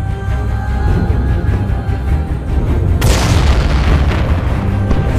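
Artillery fire from Indian guns in a staged war drama, heard as a loud, rumbling boom that bursts in partway through over a constant low roar and trails off in a long, noisy wash.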